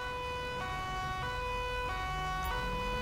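Police chase in the GTA 5 game with wailing sirens sweeping past, a steady loud repeating siren cycle over road and engine noise, heard without talking.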